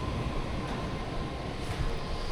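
A subway train in Taiwan gives off a continuous, even rumble of wheels and carriage noise, steady and enveloping throughout with no voices.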